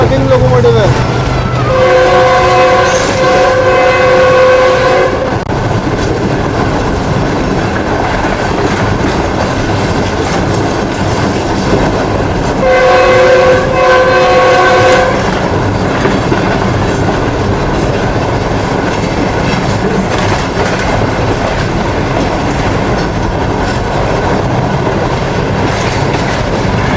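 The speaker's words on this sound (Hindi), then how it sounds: "पाकिस्तान रेलवे का किंग लोकोमोटिव है" Pakistan Railways locomotive hauling the Pak Business Express from Karachi toward Lahore, with a loud, steady rumble of wheels on track throughout and two sustained horn blasts, one early and one about midway.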